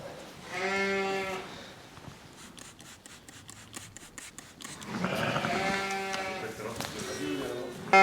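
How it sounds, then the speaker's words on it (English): Sheep bleating in a lambing shed ahead of feeding time, several loud harmonic bleats near the start and again toward the end, with a quieter rustling gap between them. "The sheep are starting to make a bit of noise because they know it's about feeding time."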